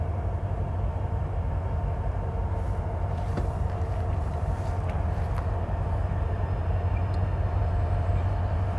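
A northbound CSX freight train rumbles steadily nearby, a continuous low roar of wheels and engine with faint metallic squeals above it, no voices.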